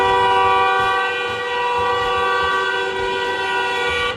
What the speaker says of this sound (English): Test the horn. The horn is good.